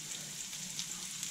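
Onions frying in a pan for a smoked Salisbury steak, a soft continuous sizzle and crackle, close and steady, with no talking.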